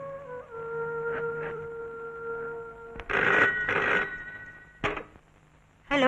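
A telephone at Lakshmi Automobile office rings with an electronic trill, bursts separated by pauses, loud and nearby, with no talk over it.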